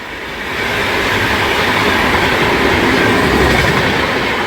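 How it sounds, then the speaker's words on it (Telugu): The AP Sampark Kranti superfast express, Tirupati to Hazrat Nizamuddin, rushes through a station without stopping, a loud continuous roar with clattering wheels that swells in after a brief quieter start, no talk. "సూపర్ ఫాస్ట్ స్కిప్ అవుతుంది మలయాళ రైల్వే స్టేషన్లో"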